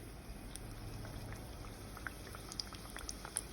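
Potato-filled tortilla tacos fry in hot oil, a soft continuous bubbling sizzle dotted with small crackles and pops, close by and with no talking.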